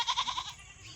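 Goats bleat in the background of an outdoor farmyard, a quick run of short, nasal cries over the first half second before trailing off into quiet open-air ambience.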